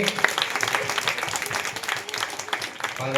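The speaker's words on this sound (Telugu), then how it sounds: "అయితే వాళ్ళిద్దరికి గట్టిగా చప్పట్లు కొట్టండి." A crowd at a Catholic street prayer for St. Anthony claps and applauds, dense continuous clapping close by for a few seconds.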